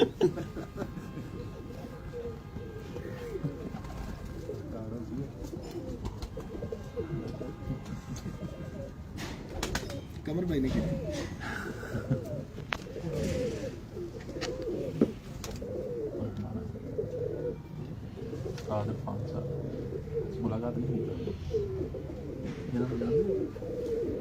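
Pigeons kept in Lahore coo in a steady low murmur throughout, close by, while people talk and laugh over them.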